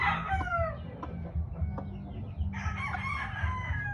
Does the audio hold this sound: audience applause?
no